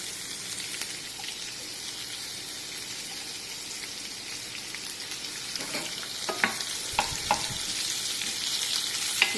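Onions sautéing in a pan for dal fry, a faint steady sizzle with occasional soft stirring scrapes growing a little busier toward the end, no one speaking.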